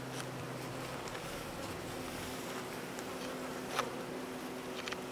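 Honeybees newly added to a homestead hum at the hive entrance, a low steady buzz with an occasional louder bee passing close.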